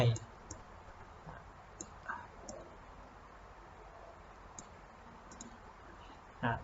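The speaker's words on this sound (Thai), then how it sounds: "คลิกค้างไว้แล้ว ดึงขึ้นไป" Computer mouse clicks come while someone draws in a Paint program, faint scattered single and double clicks over a low room hiss, with someone talking quietly in places.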